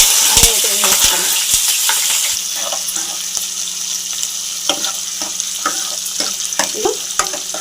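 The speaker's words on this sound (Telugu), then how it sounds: "ఇది దోరగా వేయించుకోవాలి." Onions frying with whole garam masala, bay leaf and green chilli in a pan, a loud, steady sizzle close by, punctuated by repeated sharp clicks and scrapes of a spatula stirring, with no speech.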